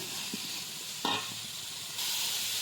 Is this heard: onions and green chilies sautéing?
yes